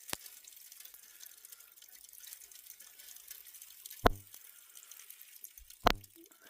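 Water running through a gold prospecting sluice over its top mat, a faint steady hiss of flowing water broken by two louder thumps near the end.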